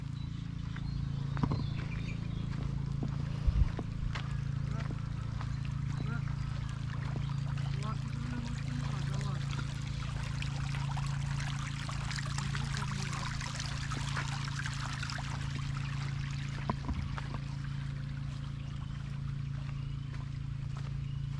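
Water flows steadily into a dry field as it is filled during irrigation, a continuous soft rushing over a low mechanical hum lasting the whole stretch.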